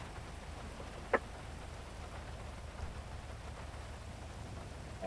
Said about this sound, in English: it's raining out here pretty hard